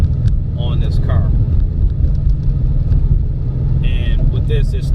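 A Ford Mustang's 2.3-liter turbo four-cylinder with the high performance pack and dual-scroll turbo idles with a steady low rumble while someone talks over it throughout.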